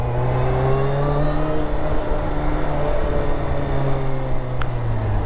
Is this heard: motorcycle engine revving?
yes